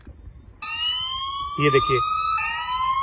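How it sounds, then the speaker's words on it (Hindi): A Gorkha anti-theft phone app sounds a loud, steady electronic siren alarm the moment the SIM card is removed, holding a piercing tone that shifts pitch partway through while someone speaks briefly over it. "जैसे सिम निकला ये सायरन बज गया"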